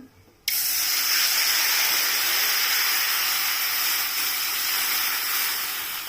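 Water is poured into hot frying masala of tomato, ginger-garlic paste and spices, setting off a sudden loud, steady steaming hiss that holds evenly for several seconds.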